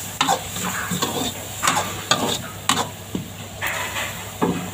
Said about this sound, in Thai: ผัดให้ข้าวกันแห้งแล้วก็เราใส่ใบกะเพรานะทุกคน